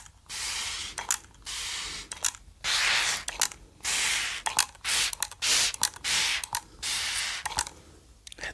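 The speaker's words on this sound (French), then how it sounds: "Il balance vraiment beaucoup d'eau ce spray" A handheld spray bottle full of water, a food oil sprayer, gives repeated close, loud hissing bursts, each about half a second long, in a quick irregular rhythm with short gaps between them.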